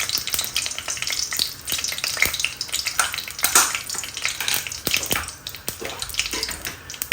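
Dried Kashmiri chilies and Bangladeshi tezpata bay leaves sizzle and crackle steadily in hot ghee, with occasional stirring clatter close by throughout.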